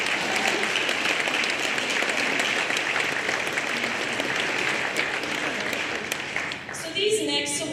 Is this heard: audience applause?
yes